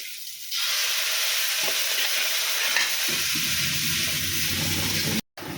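Steady loud sizzle of water mimosa and shrimp being stir-fried in a pan, with spatula scrapes and stirring throughout and a brief cut near the end.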